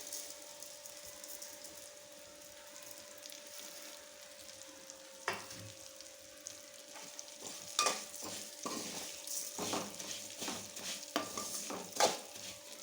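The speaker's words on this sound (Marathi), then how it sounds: "आता ह्या शेवळ्या आपल्याला तुपामध्ये छान खरपूस भाजून घ्यायच्या आहे" Vermicelli roasts in ghee while a spoon stirs it. A soft, low sizzle runs under intermittent scrapes and clicks from the stirring, which grow busier toward the end.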